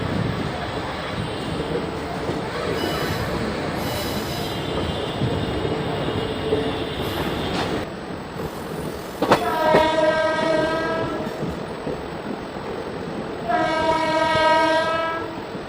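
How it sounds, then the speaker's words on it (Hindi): A DMU passenger train runs on the Hajipur–Vaishali line with a steady, loud rumble of wheels and carriages, broken by two blasts of the horn, one shortly after the middle and another near the end. "हमारी ट्रेन मुजफ्फरपुर वाले लाइन को छोड़ के वैशाली वाले रूट में"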